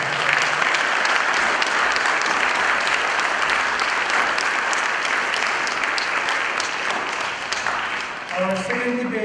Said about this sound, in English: let's give a huge and of applause to all these debaters.